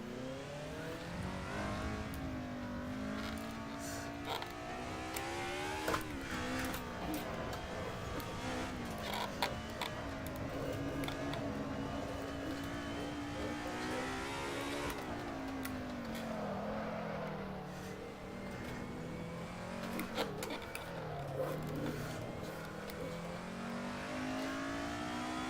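Simulated Mercedes 190E EVO II DTM race car engine on the Lausitzring in Assetto Corsa, revving and rising and falling through gear changes, loud and continuous throughout with no talk.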